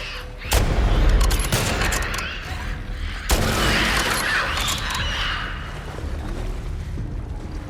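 Rifle gunfire in The Last of Us Part 2 during a fight with infected: two loud, close shots ring out, each trailed by a long, rumbling echo that keeps the scene noisy afterward.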